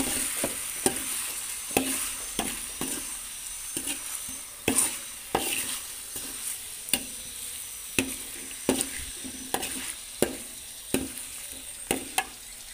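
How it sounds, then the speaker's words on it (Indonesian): A utensil scrapes and stirs a young coconut vegetable dish in a pan in steady, repeated strokes, each a sharp scrape over a soft background sizzle, close and fairly quiet. "Kita aduk-aduk terus ya teman-teman."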